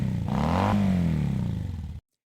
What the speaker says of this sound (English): I'm cut off by the revving of the loudest engine known to man.